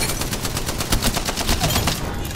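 Rapid automatic gunfire in the video game Apex Legends, a dense fast burst of close, loud shots continuing for about two seconds without talk.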